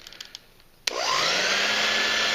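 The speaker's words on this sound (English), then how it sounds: "here comes the hairdryer. It's going to be loud" A hairdryer switches on with a sharp click after a few soft taps, then roars steadily at high heat, loud and close, during model-kit work.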